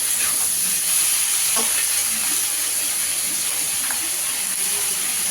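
Vegetable stalks frying in a pan, a steady loud sizzle with occasional stirring scrapes throughout.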